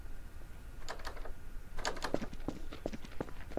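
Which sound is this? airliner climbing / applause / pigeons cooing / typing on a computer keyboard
typing on a computer keyboard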